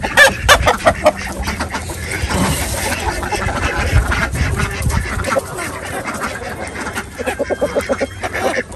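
A rooster and a flock of hens cluck and squawk together on a farm. The calls come in busy overlapping bursts, loud and close, against steady barnyard noise.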